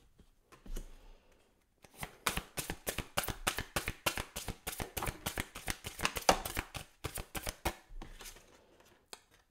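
Oracle cards are shuffled and handled in a rapid run of crisp riffling flicks, close and fairly quiet, with brief pauses at the start and end and no talking over them.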